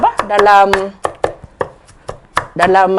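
Knife blade strikes a cutting board in quick irregular chops as onion and garlic are minced finely, close and loud, with a person talking between and over the cuts.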